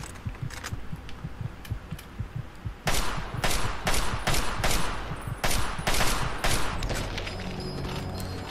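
Video game gunfire in Destiny, with rapid, loud bursts of shots that start as lighter repeated pops and then become heavy, dense volleys spaced a fraction of a second apart, ending in a steadier rumble.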